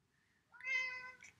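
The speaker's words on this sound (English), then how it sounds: "That's my cat." A single house cat gives one clear, close meow lasting about a second, rising then trailing off in a quiet room with no talk.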